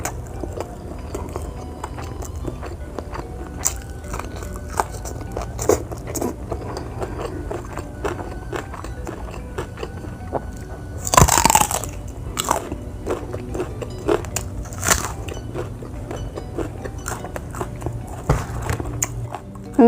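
Close, crunchy chewing of raw banana heart eaten with kecombrang sambal: steady moist crunches and bites that carry on throughout, with one louder crunching bite near the middle.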